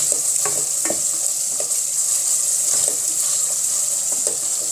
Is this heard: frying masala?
yes